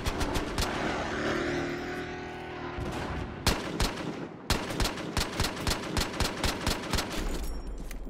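A powerful gun fires in the Battlefield Hardline multiplayer game, with a rumbling background before a burst of loud, rapid shots and then a long run of evenly spaced, punchy reports.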